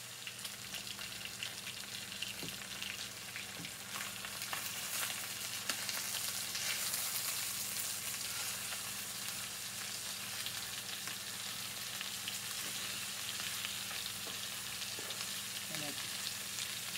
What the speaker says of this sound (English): And let that sear on this side for a little bit.